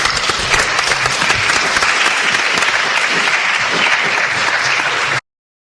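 A lecture-hall audience applauds warmly and steadily for several seconds to welcome a speaker, dense close clapping that stops abruptly.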